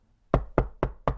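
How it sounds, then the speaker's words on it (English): Four sharp knocks at a door come in a steady, evenly spaced rhythm, close and fairly loud, with no voices. "Belle heard a knock at the door and opened it."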